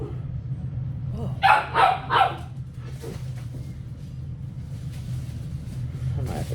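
Puppy barks a few quick, high yips in a burst, fairly close but not loud, followed by quieter whimpering noises over a low background hum.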